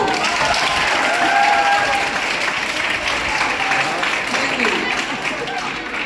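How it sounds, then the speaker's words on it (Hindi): Loud, sustained applause from a sizable crowd at a coaching-class seminar, dense clapping filling the whole stretch with a few scattered voices mixed in. "ये तालियां अपने किसके लिए बजाई है?"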